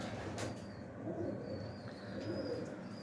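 Pigeons kept for training young birds coo softly at a pigeon show, with low rounded calls repeating over a steady outdoor background hum.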